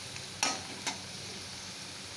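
Potatoes fry in hot oil in a wok with a steady, soft sizzle close by, broken by two sharp utensil scrapes or clinks in quick succession.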